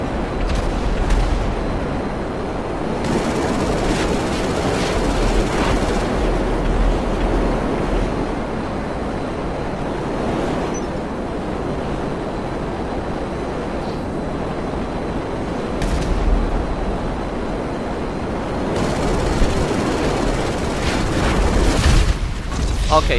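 In a GTA video game, SAM missiles fired from an APC launch and explode as repeated dull booms over a constant rushing roar, with some bursts louder than others.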